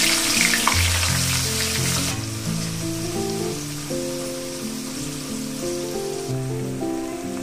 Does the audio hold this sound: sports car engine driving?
no